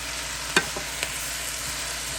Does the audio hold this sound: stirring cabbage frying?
yes